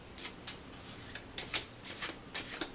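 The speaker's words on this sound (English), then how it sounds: "I'm just going to shuffle a little bit more" Tarot cards being shuffled by hand make a quiet sequence of crisp riffling bursts, roughly eight short flurries spaced irregularly, close and soft, with no voices.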